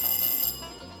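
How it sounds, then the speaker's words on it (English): A telephone rings with a bright, rapid electronic trill in short bursts, then cuts off, leaving a faint low hum; no one speaks. "Another phone call?"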